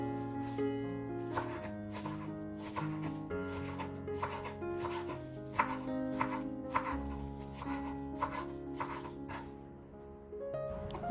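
A knife finely chops parsley on a board for a potato salad, giving quick repeated rhythmic taps over soft background music.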